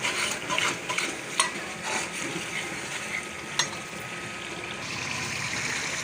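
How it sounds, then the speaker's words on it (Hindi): Chicken masala for Sindhi bhe being stir-fried, a soft steady sizzle under occasional spoon scrapes and a couple of sharp clicks, close and moderately quiet. "अब इसको अच्छी तरह से भून लेते हैं"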